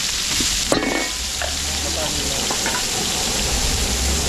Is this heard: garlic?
yes